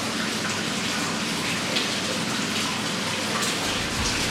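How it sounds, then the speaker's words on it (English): Water splashing and sloshing continuously, close by, a steady wet patter of a hand tapping the water surface repeatedly near a tortoise. "when I tap the water like this"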